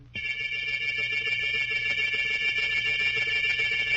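A bell rings to summon a servant, a loud, continuous electric ringing that starts abruptly and holds without a break for about four seconds.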